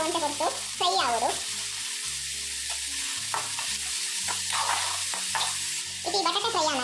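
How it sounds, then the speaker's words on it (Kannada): Cut potatoes fry in hot oil in a pan with a steady, loud sizzle and crackle, interrupted by occasional stirring scrapes and clinks close by. "ಈ ಎಣ್ಣೆಡು ಬಟಾಟೆ ಒಂಟೆ ಕೊಟ್ಟು ಫ್ರೈ ಆಗೋದು"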